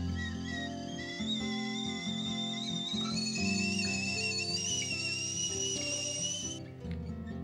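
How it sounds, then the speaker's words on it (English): A kettle aboard a narrowboat whistles steadily, its high shrill tone slowly rising in pitch before cutting off near the end, over a low background hum. "Feeling of nostalgia, hearing that whistling kettle."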